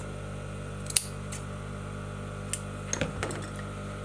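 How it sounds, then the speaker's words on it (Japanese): Sharp scissors snip through fabric to open a bound buttonhole in sewing, giving a few short, crisp cuts near the mic in an otherwise quiet room. "で切れるハサミでバッサリいきます。"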